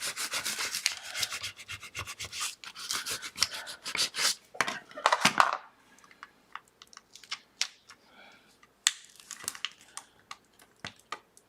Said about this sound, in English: Scrape it again forgot that part. I like to scrape it on both sides.